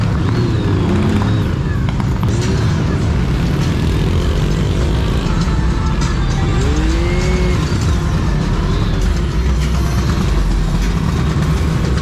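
Dense motorcycle traffic at a crowded night fiesta produces a loud, continuous engine rumble with passing revs and crowd noise mixed in.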